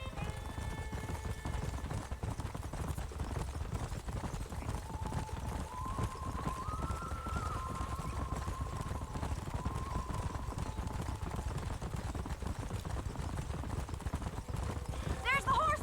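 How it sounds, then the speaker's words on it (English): Horses gallop in the Red Dead Redemption video game, a rapid continuous clip-clop of hooves running throughout with a whinny partway through and talk over the hoofbeats. "There's the horses!"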